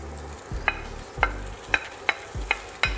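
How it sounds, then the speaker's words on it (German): Sage leaves frying in a hot pan, a soft steady sizzle broken by six evenly spaced clinks and scrapes of a utensil stirring against the pan, fairly quiet and close with no voices. "unseren Salbei da rein. Dann kann man wieder ein bisschen hochgehen mit der Hitze. Den einmal kurz ein wenig anbraten."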